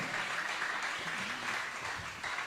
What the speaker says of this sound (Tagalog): Malakas na palakpak para sa ating mahal na Panginoon.